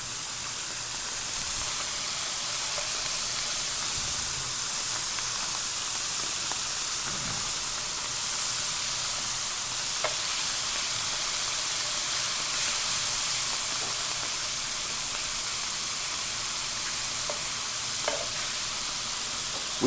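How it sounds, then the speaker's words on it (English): Slices of country ham fry in hot lard until crispy, a steady, close sizzle and hiss running the whole time with occasional soft pops and stirring clinks, and no one speaking. "So just let that fry around till it crisps up pretty good."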